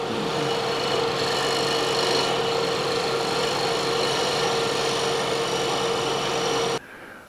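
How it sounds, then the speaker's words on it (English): Wood lathe spinning a mortar blank while a scraper takes delicate shear scraping cuts, a steady close whirring hum with a faint tonal whine that runs for about seven seconds and then stops abruptly. "I wanted to show how delicate those shear scraping cuts are"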